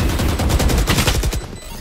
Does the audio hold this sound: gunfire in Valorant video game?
yes